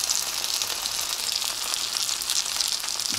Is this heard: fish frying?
yes